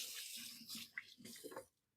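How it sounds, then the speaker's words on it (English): Tap water runs briefly while hands are washed at a kitchen sink, a soft close splashing that stops after about two seconds. "So I'm going to go wash my hands real quick."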